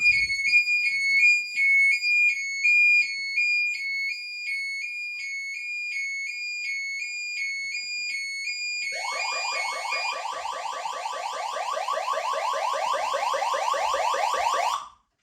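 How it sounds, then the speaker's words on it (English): A loud electronic alarm from an internal home security siren beeps in a steady repeating pattern, then a harsher buzzing siren joins in and blares continuously until cutting off. "first of all, you heard the internal siren, which is over here"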